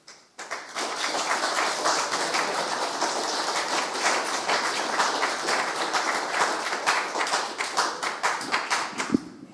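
Sustained applause from the room at a public inquiry hearing, steady dense clapping from many people lasting several seconds without pause, with a sharp knock near the end.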